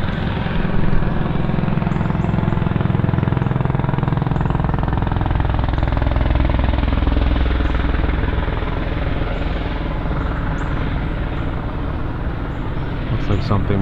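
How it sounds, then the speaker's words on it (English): A helicopter circling overhead, its rotor chop and engine roar filling the air, loud and sustained throughout, blending with a broad rumbling wash of noise. "that helicopter is circling"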